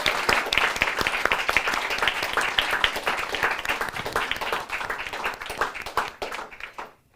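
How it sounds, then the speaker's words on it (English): Audience applause at a live literary journal launch event, steady dense clapping from a room of people that holds for several seconds, then fades out. "Let's do a huge round of applause."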